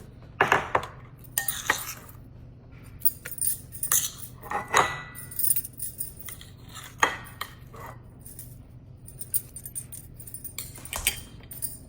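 Boiled oats go into a smoothie jar for an oats and spinach smoothie, heard as close, irregular metallic clinks and clatters of a utensil against the jar, spaced by quiet gaps.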